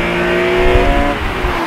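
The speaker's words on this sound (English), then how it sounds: "I've installed an aftermarket eVenturi intake, which just pumps up the induction noise even more." A BMW E46 M3 fitted with an aftermarket eVenturi intake gives off a loud, steady induction roar with a sustained tonal drone and no talk over it.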